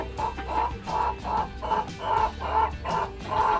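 Repeated short clucking calls from a young rooster, about nine evenly spaced bursts, close and fairly loud, with no talking.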